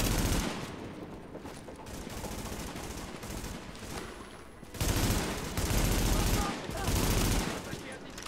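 Gunfire in Tom Clancy's The Division, a dense run of rapid shots and bursts that grows louder partway through, with game voices mixed in.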